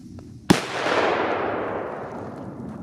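A single sharp, loud bang from a TP4 Exploder 4 Tropic firecracker, followed by a long roaring rush that slowly fades, with no talking.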